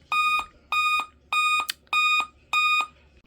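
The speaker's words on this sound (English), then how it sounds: "It's still beeping at me." A Dell laptop undergoing a BIOS update beeps five times at an even pace, each tone a bright, sustained electronic beep lasting about a third of a second, close and clear with quiet gaps between.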